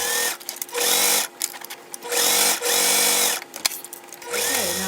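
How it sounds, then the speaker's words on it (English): A sewing machine top-stitches across a bag panel in several steady whirring runs, loud and close, with brief pauses between bursts. "sew all the way across, top stitching it, and then sew back down"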